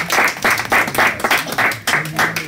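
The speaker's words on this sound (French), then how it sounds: "On peut applaudir en fait." A conference audience claps loudly and close by in pulsing, rhythmic waves for a couple of seconds.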